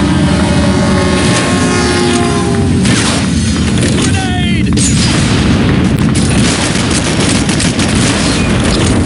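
A grenade explosion in the Red Faction II video game: a very loud, heavy booming rumble that fills the whole stretch, with thuds and rolling low roar.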